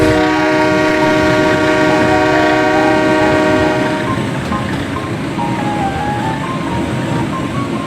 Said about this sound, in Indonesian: Ini adalah lokomotif CC201 livery Perumka teman-teman.